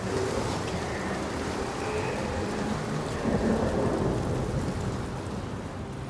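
A thunderstorm rolls in Senua's Saga: Hellblade 2, with dense, steady rain hissing over a deep rumble of thunder that swells briefly in the middle.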